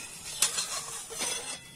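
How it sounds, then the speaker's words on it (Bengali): Aloo paratha frying in a pan gives a soft, steady sizzle, with a few brighter scraping bursts as it is turned, close and continuous, with no talking. "এখানে ভাজা হচ্ছে আলুর পরোটা"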